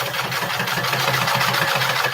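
A sewing machine stitches fabric for a tiny standing bag, its motor holding a steady, rapid, even hum throughout with no talking.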